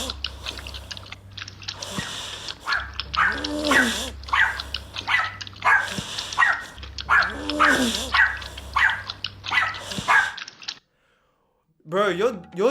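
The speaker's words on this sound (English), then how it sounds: "someone's music submission used their dog" Deep, throaty grunts from a dog used in a music track, repeated in uneven bursts over a low steady tone, close and fairly loud, then a short silence before one last grunt.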